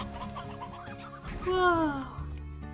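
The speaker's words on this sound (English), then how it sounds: "birds." Birds in a video game cluck like chickens, a quick run of squawking clucks rising into one drawn-out cackle, set over soft game background music.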